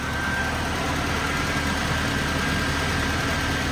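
A 1985 Mitsubishi Pajero engine idling steadily, a continuous low, even hum with constant loudness and no talk.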